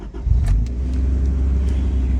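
A Honda Civic engine revs steadily with a low, continuous rumble, close and loud, holding its pitch for about two seconds.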